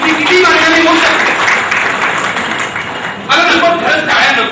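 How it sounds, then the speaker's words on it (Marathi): An audience at a public political rally in Thane applauds loudly and continuously, the clapping dense and sustained with voices mixed in. "मला नको, खरंच टाळ्या नको आहेत मला."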